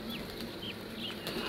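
Pigeons flap their wings at a pigeon farm in the morning, a brief, faint flurry of soft wingbeats against a quiet background, with no talking.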